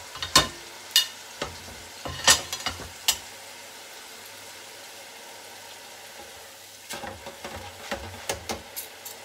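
Chayote fries in a deep fryer, a low steady sizzle with sharp metallic clanks and rattles of the basket at the start and again near the end, no talking.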